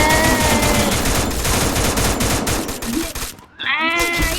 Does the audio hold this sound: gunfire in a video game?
yes